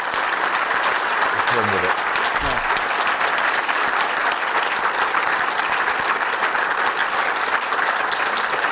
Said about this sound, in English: I think we should just appreciate this with a round of applause.